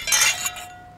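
Glasses clink together in a toast at a gathering, a single bright chime that rings briefly and fades within a second, close and moderately loud.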